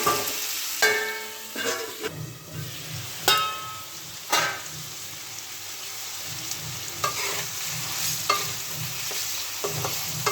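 Vegetables fry in a pan for Bengali spinach ghonto (palong shak), a steady close sizzle broken by scraping stirs of a spatula every second or two, with no talk.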